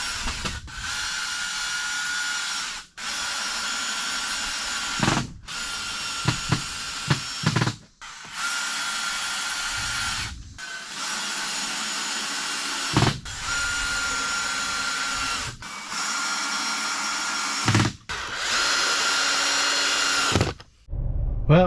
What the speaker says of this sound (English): Let's go ahead and screw down the plywood.